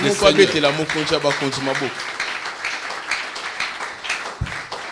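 Congregation applauding the Lord during a church service: a dense, steady wash of clapping from many hands, with a voice speaking over the first two seconds.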